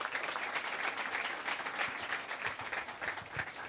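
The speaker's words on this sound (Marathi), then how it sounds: "खरोखर त्यांच्यासाठी एकदा कडकडून टाळ्या मार" Audience applause from a crowd at a music school's guru-puja inauguration function, steady dense clapping throughout, fairly loud and continuous without a break.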